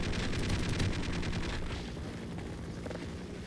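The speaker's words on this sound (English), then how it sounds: "Must shoot, but not too wildly." Gunfire in the video game Half-Life sounds as a dense, rattling stream of rapid shots, loud at first and then thinning out into a duller rumble.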